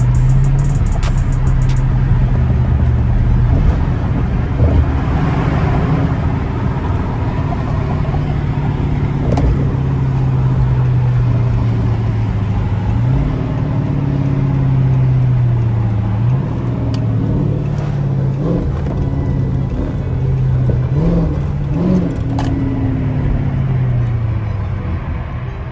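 A straight-piped Chrysler 300S Hemi drives through city streets in Mexico at night, its loud, raspy exhaust rumbling steadily with engine pitch rising and dropping through several downshifts and revs.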